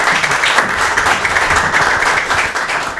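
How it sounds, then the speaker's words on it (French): An audience in a TV quiz studio applauding a team coach, a dense continuous wash of many hands clapping steadily at close range, loud and unbroken throughout. "on applaudit notre coach"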